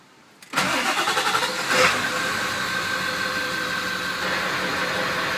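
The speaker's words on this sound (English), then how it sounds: "I'm gonna start the truck." A 2000 Ford F250 truck cranks briefly and fires up, then settles into a steady, fairly loud idle with a faint whine running through it.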